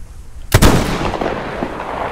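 A single loud gunshot in Metro Exodus cracks sharply and close, then trails off into a brief, rumbling echo.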